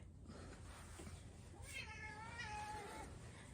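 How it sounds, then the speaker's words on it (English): A house cat meows indoors, a clear rising-and-falling call in the second half over a steady low room hum, with no one talking. "sorry, my cat Gabby wanted to make an appearance."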